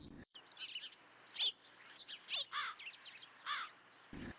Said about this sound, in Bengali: চারিদিকে পাখির কিচিরমিচির